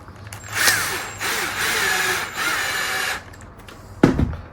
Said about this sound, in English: Just start them all before we go tighten them.